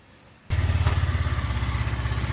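A Honda Elite 110 scooter engine starts after a quiet moment, catching abruptly and settling straight into a loud, close, rhythmic idle putter.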